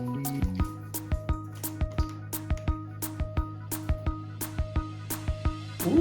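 Reagent drops falling one by one into a water sample for a chlorine test, a steady series of about a dozen small, close, crisp drips with resonant tones, evenly spaced and alone without talk.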